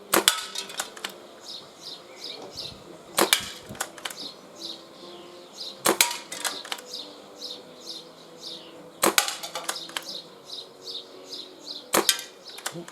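Sharp, snappy cracks from a Webley Nemesis air pistol fired outdoors, five shots spaced roughly three seconds apart, with birdsong chirping steadily in the background between them and no talking.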